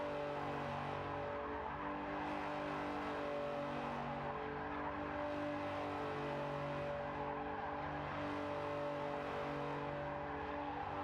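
An engine in a racing video game holds high revs while the car spins donuts and wears down its tyres, a steady sustained drone with a rhythmic rising and falling swell, heard alone.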